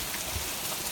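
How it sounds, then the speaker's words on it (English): Heavy storm rain blows hard in a severe flooding storm, a dense, even hiss of wind-driven rain filling the whole second with no voices. "The rain is blowing at me."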